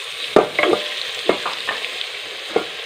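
Tomatoes added to browned onions frying in a pan for aloo mongray, with a soft sizzle and a few sharp spoon knocks and stirring scrapes, no talk.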